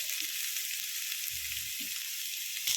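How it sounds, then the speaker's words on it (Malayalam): Chopped onions land in hot oil with frying ginger and garlic for a beef samosa filling, a steady loud sizzle throughout with a soft low thump as they drop in. "ഇനി നമുക്കിതിലേക്ക് 2 സവാള കട്ട് ചെയ്ത് വെച്ച് ഇട്ട് കൊടുക്കാം കേട്ടോ."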